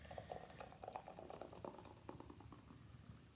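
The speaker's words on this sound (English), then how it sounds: "I like to pour aggressively to get all the fizz out." Mackeson Stout poured hard into a glass, a soft fizzing, bubbling gush with faint pattering, quiet and close, trailing off.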